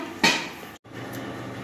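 A spoon knocks once against a metal pot while fish biryani is mixed for serving, a single bright clank followed by quiet scraping and kitchen ambience.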